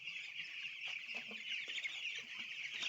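Chickens in a poultry farm shed cluck and peep continuously, a dense flock chatter with a high shrill chorus of chicks at moderate distance, steady throughout and with no voices.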